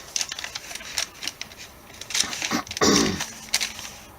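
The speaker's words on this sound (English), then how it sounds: "Just gonna kind of flip through it so you can kind of see what" Paper pages of a junk journal being flipped and handled, giving a quick series of crisp rustles and riffles, close and fairly loud, ending in a longer swishing turn.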